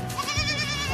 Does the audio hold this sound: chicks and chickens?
no